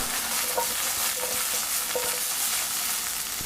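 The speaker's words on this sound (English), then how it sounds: "Keep stirring." Ethiopian shiro powder being stirred in a cooking pan over steady sizzling, with a few soft scraping strokes of the utensil spaced about every second or so, close and continuous, no voices.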